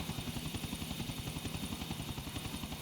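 A helicopter flies in the video game GTA Vice City, its rotor thumping in a fast, even pulse under a steady engine drone, loud and continuous throughout.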